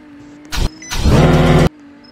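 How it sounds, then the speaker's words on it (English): A video game car's engine cranks with a short burst, pauses, then catches and runs loud and steady for under a second before cutting off abruptly, alone with faint background hum. "Now tear Epsilon to start the engine"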